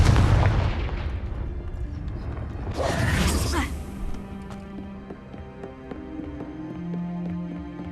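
A Confringo blasting spell goes off in the Hogwarts Legacy video game: a loud, broad explosive burst about midway, with rumbling, clattering game noise and music before and after.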